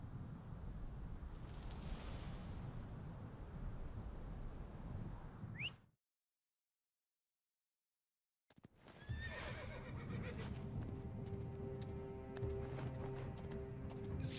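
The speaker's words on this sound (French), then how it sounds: "Mon cheval." A horse in Assassin's Creed Origins whinnies and hooves clop over wind noise, then the sound cuts out briefly before resuming with galloping and another neigh.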